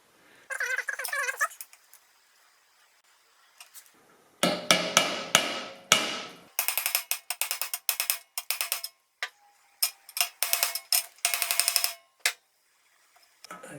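A socket is hammered onto a steering bearing race on a Yamaha RZ350 motorcycle, giving sharp metallic strikes in irregular bursts of quick taps with pauses between, loud and close, with no talking.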